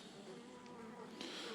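Honeybees buzz around an open Dadant beehive: a close, continuous droning hum with a few individual bees passing near, fairly faint overall.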